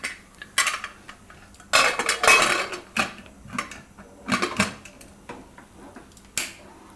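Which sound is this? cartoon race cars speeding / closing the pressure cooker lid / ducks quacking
closing the pressure cooker lid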